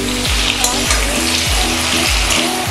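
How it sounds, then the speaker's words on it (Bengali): Pointed gourd (potol) fries with sugar in a pan, giving a loud, steady, close sizzle that runs the whole time, with a faint repeating tonal pattern underneath. "একটু সময় নিয়ে পটলগুলো ভাজতে হবে।"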